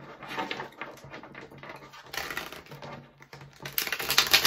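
Tarot cards being shuffled by hand, giving a close, irregular papery riffling and tapping patter with no talk.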